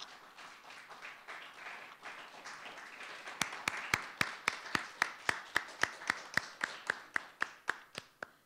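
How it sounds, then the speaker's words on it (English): Audience applause at a scholar panel, a soft scattered patter that settles into slow, sharp, rhythmic unison claps, about two or three per second, fairly close. "This applause says congratulations to FSE"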